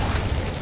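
The Corpse Explosion skill goes off in modded Darkest Dungeon, a short, dense, booming blast with a low rumble that fills the brief moment.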